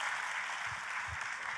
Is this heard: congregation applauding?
yes